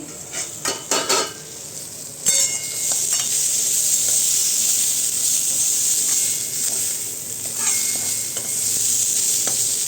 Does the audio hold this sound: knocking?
no